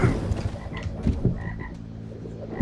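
Croaking frogs in the video game Gat Out of Hell, a layered chorus of low, rough croaks repeating close by for a few seconds with no talk over them.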